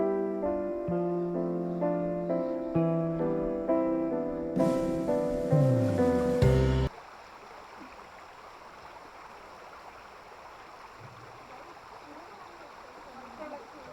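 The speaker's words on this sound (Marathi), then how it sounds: "इथे छोटा ओढा पण आहे पाण्याचा आवाज येतोय" Music plays for several seconds, then gives way to the soft, steady wash of water flowing in a small stream in the forest near a temple.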